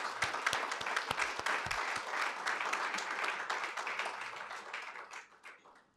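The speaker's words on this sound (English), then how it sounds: "Give yourselves a round of applause" Applause from an audience at a college celebration gathering, steady dense clapping with a few sharp nearby claps, gradually fading out toward the end.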